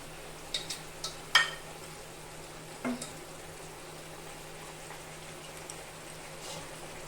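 Pabda fish pieces going into a boiling spiced broth for a fish rasa: a few soft clinks and plops in the first three seconds, then a quiet, steady simmer with a low hum, faint and close, with no talking.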